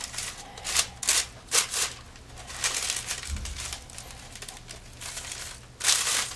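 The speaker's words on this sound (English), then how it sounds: "Keep wrapping your paper around until you have a" Paper crinkles and rustles up close as it is wrapped around a glued craft, in several bursts of crackling separated by quieter handling.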